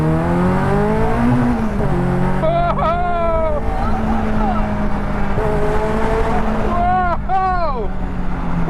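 Caterham 620S sports car on a road, engine droning loud and close as it revs and shifts down through gears approaching an underpass, with rising and falling pitch sweeps and people talking inside over it.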